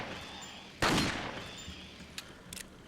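Gunfire in the video game Resident Evil 4: one loud, sharp blast rings out and decays, followed by a few faint, quick pops near the end.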